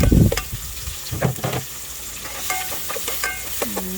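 Onion and garlic sautéing in melted butter in a pot for chicken sopas, a soft sizzle under clinks and scrapes of a spoon stirring against the pan, close by, with a few knocks and no talking.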